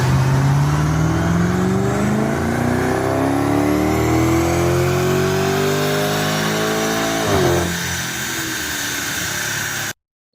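A 2011-2015 BMW Alpina B7 (F01) revs hard on a chassis dyno, its engine note climbing steadily in pitch for about seven seconds before lifting off and dropping back, loud and close with no talking.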